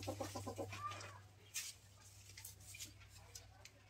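A laying hen gives a quick series of rhythmic clucks up close at the start, then quieter scratching and rustling over a steady low hum.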